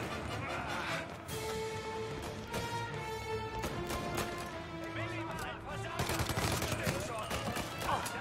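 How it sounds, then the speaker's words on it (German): Thompson submachine gun fire in Mafia Definitive Edition, rapid bursts crackling amid game music and sound effects, with someone talking over the shooting. "Oh, hier ist die Thompson"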